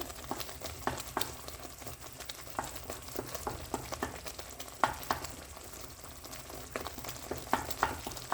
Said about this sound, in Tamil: ஸோ நல்லா சாட் ஆகிட்டுருக்கு.